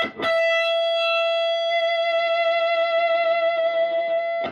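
An electric guitar played through a BOSS DS-1 distortion pedal with the distortion turned up, one heavily distorted note sustaining steadily for about four seconds before cutting off, alone without speech.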